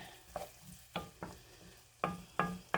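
Chopped carrots being stirred into a simmering bolognese sauce in a pan, with a series of distinct scraping, clattering stirs over a soft background sizzle, close and moderately loud.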